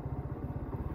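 Motorcycle engine braking while descending a steep downhill mountain road between Sajek and Baghaihat, a low, steady pulsing engine drone heard close and continuous with no talk.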